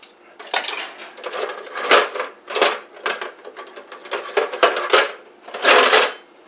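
A big spoon churning breakfast casserole with cheese in a large bowl, loud close scrapes and clatters in an uneven rhythm of strokes.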